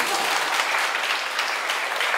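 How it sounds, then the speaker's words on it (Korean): Audience applause at a CEO talk concert, ahead of an old song being performed: dense, steady clapping from a crowd throughout, with no talking. "박수 좀 쳐주세요."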